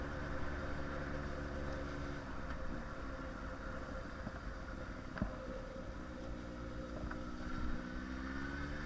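A motorcycle ridden in cold weather gives a steady engine drone under heavy wind rush, with a few small knocks and a slight rise in pitch near the end, and no talk.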